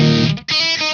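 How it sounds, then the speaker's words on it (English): Amp modeler distortion layered over a clean DI electric guitar signal rings out as a loud, buzzy sustained chord, briefly cut off midway and then struck again, with no voices. "It almost sounds like a distortion layered on top of a DI signal."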